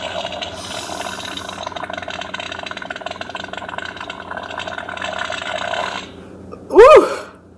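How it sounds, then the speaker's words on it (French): A juicy, wet fart sound effect punctuates a children's story told in French. The brief, loud, sputtering blast comes near the end, after a steady stretch of background noise. "Son pet était beaucoup trop juteux."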